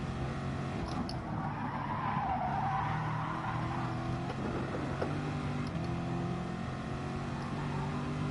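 Car tires in Gran Turismo Sport scrub and squeal as the car understeers. A continuous skidding whine sits over a steady engine drone for several seconds at moderate loudness.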